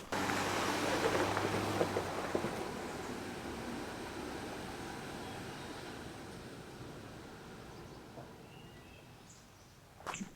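Off-road vehicle pushing through roughly foot-deep water on a Pine Barrens trail, a loud rushing splash at the start that fades into a long steady wash, ending with a short sharp knock.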